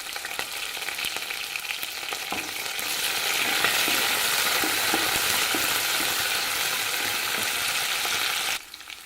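Dried red chillies and curry leaves sizzling in hot oil, a steady dense crackle that swells louder partway through and then cuts off abruptly near the end, with no talking.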